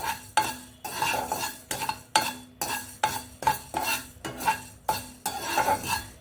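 Fenugreek seeds frying in a pan are stirred in a steady rhythm, each pass a sharp scrape of a utensil against the metal over a faint sizzle, about a dozen strokes with no talking.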